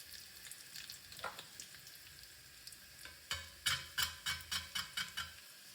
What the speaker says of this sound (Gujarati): લસણ અને મરી જીરુંનો વઘાર કરીએ